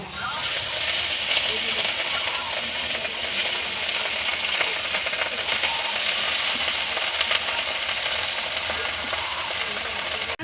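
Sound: katla fish frying lightly in oil

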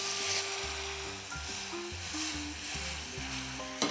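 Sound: balsamic vinegar added to sizzling melted sugar caramel

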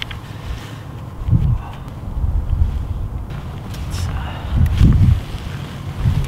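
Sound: wind outdoors

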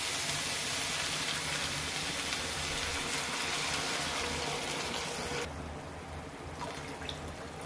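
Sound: water being poured into a pan for masala oats

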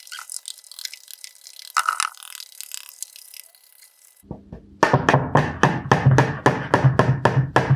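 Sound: whisking pancake batter with a fork

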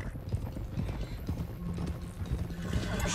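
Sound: horse hooves galloping in a video game

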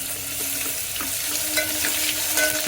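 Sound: ginger garlic paste and whole spices frying in oil

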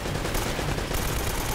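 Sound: gunfire in the video game Uncharted

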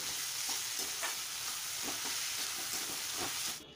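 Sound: stirring and frying egg chowmein masala in pan

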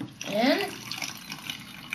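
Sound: vinegar being poured into a bottle

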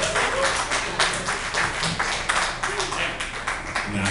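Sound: audience clapping at a comedy show

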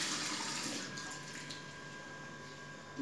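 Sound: running water

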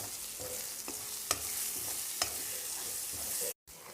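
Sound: frying and stirring masala in oil

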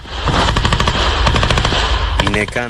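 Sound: continuous gunfire during a firefight

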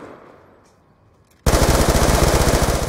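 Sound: gunfire in the video game Black Ops 2

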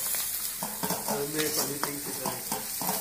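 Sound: stir-frying vegetables for veg fried rice

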